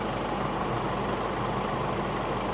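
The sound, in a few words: 2022 Isuzu mu-X 3.0 SUV engine idling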